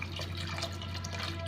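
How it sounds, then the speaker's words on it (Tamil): Water pours steadily into a cooking pot while sambar is being made, a continuous trickling, splashing stream heard close up with no talking. "இப்போ நமக்கு தேவைக்கேற்ப தண்ணி ஊற்றிக்கலாம்"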